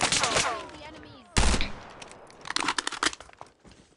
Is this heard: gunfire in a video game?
yes